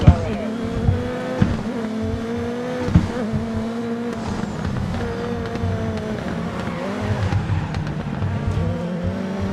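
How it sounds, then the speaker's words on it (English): Race cars scream at high revs in a racing video game played on a Logitech G29 wheel with shifter. Engine tones rise and fall over several sharp impact thuds of a crash. A voice is faintly audible underneath. "These cars are absolutely flying, and there we go. There's our nice little wreck."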